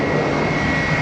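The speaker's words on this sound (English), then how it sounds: "On takeoff roll now is" Boeing 767 jet airliner bound for Quito on its takeoff roll at Atlanta airport, a loud, steady engine roar holding evenly throughout with no talk.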